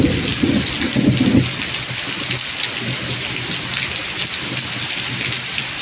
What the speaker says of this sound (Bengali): বৃষ্টির তোড় আরও বেড়ে গেল